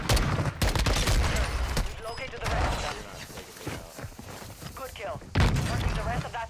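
Rapid bursts of gunfire from Call of Duty Warzone, loud and dense throughout, with a heavy salvo near the start and another near the end, while voices talk over the shooting.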